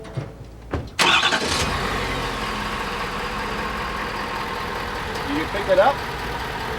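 Pickup truck fitted with a snow plow cranks and fires up, then settles into a steady idle, while people talk nearby.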